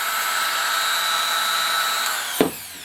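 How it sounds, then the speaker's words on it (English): Makita RT0700 router running at its lower speed: a steady, loud high-pitched motor whine holds for nearly three seconds, then a brief thump near the end, with no talk. "So here's the Makita at the lower speed."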